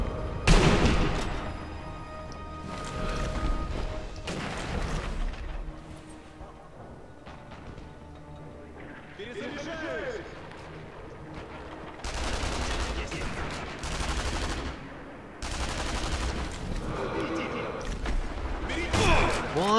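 Repeated bursts of gunfire in the shooter game Sniper Elite V2, loud volleys and rapid shots separated by short gaps over about twenty seconds, with a voice talking between and over them.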